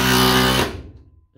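A 3/8 impact wrench on a DeWalt FlexVolt battery drives a screw in one loud, dense burst of rapid hammering that runs for about half a second, then cuts off into quiet with faint handling knocks.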